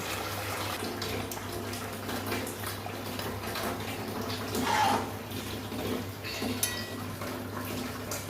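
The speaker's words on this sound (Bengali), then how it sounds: "জল দিয়ে দিচ্ছি" Water runs into a cooking pot of potato curry with spices, a soft, continuous pouring and splashing with a few light clinks of the pot, fairly quiet and without talk.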